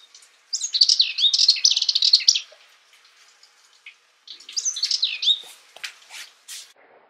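A warbler sings a bright, rapid, trilling song, pauses, then launches a second burst followed by scattered chirps, clear and fairly close with no talking.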